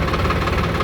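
A JCB backhoe loader's diesel engine works steadily at a village site, a dense continuous rumble with knocking texture, loud and near, with no voices.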